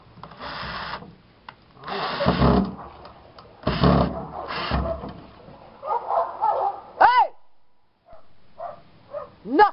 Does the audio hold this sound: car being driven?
no